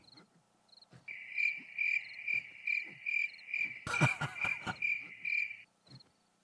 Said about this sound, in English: You hear all of these crickets.